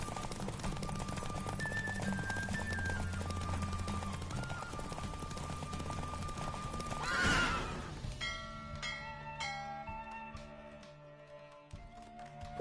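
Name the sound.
horse galloping in Witcher 3 video game race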